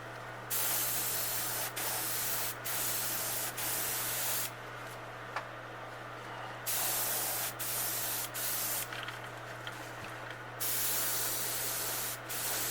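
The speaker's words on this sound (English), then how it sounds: "I like to shoot at an angle so that overspray will fall towards the bottom of the bait." An airbrush sprays paint onto a realistic bluegill fishing bait, sounding as close, steady hissing bursts of a few seconds each, separated by short pauses.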